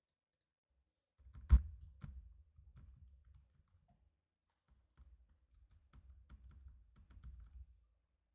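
Quiet computer keyboard typing: a loud initial keystroke followed by scattered soft key taps in short bursts, a pause, then another irregular run of light presses, with no talking.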